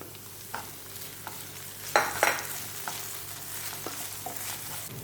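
Sliced onion and a chopped medium tomato fry in a pan for squid pepper fry, giving a steady low sizzle with scraping stir strokes, the loudest pair of scrapes in the middle, and no voices.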